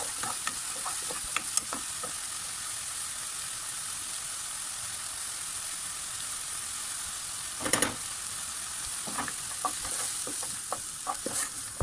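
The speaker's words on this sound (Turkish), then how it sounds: "suyunu bırakan mantarların üzerine 2 yemek kaşığı un ekliyorum" Mushrooms fry in a pan with two spoonfuls of flour added, a soft continuous sizzle under occasional scraping stirs of a spoon, with a louder clatter of stirring midway.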